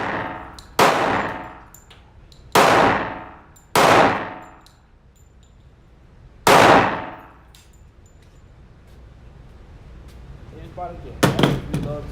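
Glock 20 pistol shots ring off a steel target: four sharp reports with clanging decay, the first three evenly spaced and a fourth after a pause. A brief voice speaks near the end.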